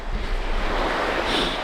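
Surf washing onto a snowy beach in Japan, a steady broad rush of waves with wind buffeting the microphone throughout, no voices.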